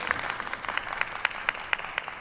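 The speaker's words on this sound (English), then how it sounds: "How about a round of applause for Emma?" Applause from a VidCon Abu Dhabi audience, a steady wash of many hands clapping with regular louder claps standing out, fairly close and sustained throughout.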